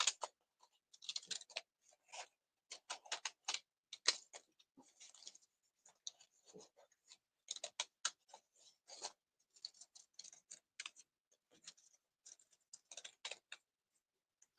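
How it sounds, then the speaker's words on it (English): Scissors snip through fabric along a drawn heart outline, a quiet run of short, crisp cuts in irregular bursts with brief pauses between them. "I'm going to cut that heart out now"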